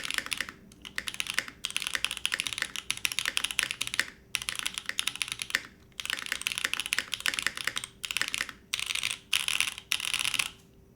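Rapid typing on a custom Sat 75 X mechanical keyboard, dense bursts of clacky keystrokes in steady runs broken by short pauses, close and alone without any talk.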